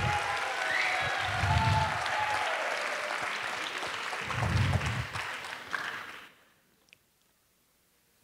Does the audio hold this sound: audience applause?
yes